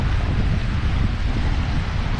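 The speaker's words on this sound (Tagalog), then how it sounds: "malalaki yung alon talaga" Big ocean waves roll onto an island beach in Vanuatu, a continuous loud wash of surf mixed with heavy wind buffeting the microphone.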